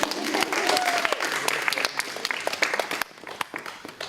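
An audience at a student recital of Russian folk instruments gives a steady round of applause, dense clapping that holds for a few seconds and then thins to scattered claps, with a faint voice mixed in.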